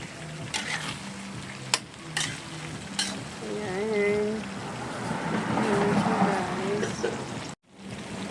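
Chop suey stir-fried in a pan, a steady sizzle with scraping stirs running throughout, fairly close, while a voice talks over it and a short dropout comes near the end.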